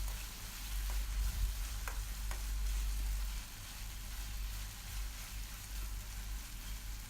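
Tomatoes sautéing in a pan for channa masala, a soft, continuous sizzle and frying crackle with a few stirring scrapes, fairly quiet and with no talk.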